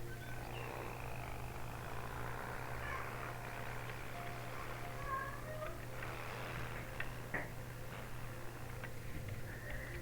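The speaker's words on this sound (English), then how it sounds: "Yeah, my cats like to meow sometimes." Pet cats meow in a room near a gaming setup playing Jurassic World Evolution 3, a few faint scattered calls over a constant low electrical hum.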